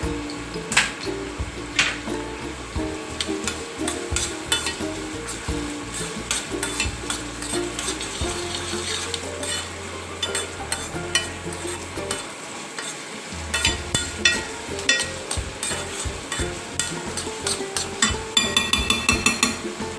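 Onions sizzling in a pan for Guntur-style chicken curry, with steady frying hiss and frequent scraping stir strokes and light clinks throughout, close and fairly loud with no talking.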